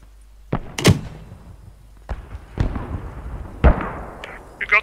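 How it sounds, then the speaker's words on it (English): Tank blowing up in a video game: several sharp explosive bangs and thuds at irregular intervals, each decaying into rumble, with the last burst followed by faint crackle. "Tank just blew up?"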